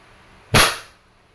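Crosman 1322 single-shot pump pellet air pistol, pumped ten times, fires once with a sharp, close crack that fades quickly in a quiet room.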